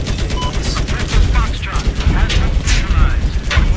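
Gunfire in Battlefield 4 during a tank fight, rapid bursts of shots and mechanical clatter crowding the whole stretch, loud and dense with only brief gaps.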